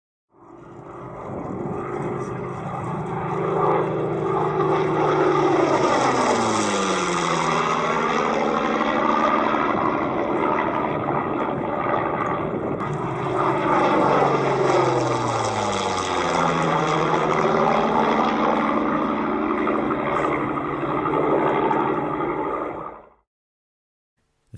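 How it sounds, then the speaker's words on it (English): Rolls-Royce Merlin engines of Spitfires roar overhead at Duxford Aerodrome in Cambridgeshire, two loud passes sweeping near then away with clear pitch drops, fading to silence at the end. "The unmistakable sound of Rolls-Royce Merlin engines, in this case mounted in Spitfires, overflying the Duxford Aerodrome in Cambridgeshire"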